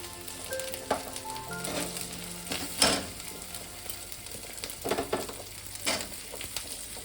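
Potatoes sizzle alongside dried prawns in a frying pan, a steady hiss broken by a few loud utensil scrapes and clatters up close.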